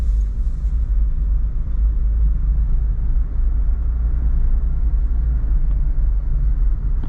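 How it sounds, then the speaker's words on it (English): A JDM import car drives at speed, its engine and road noise forming a steady, heavy low rumble from inside the cabin, with no voices. "I'm gonna see if I could take this one up to about like 60 miles per hour,"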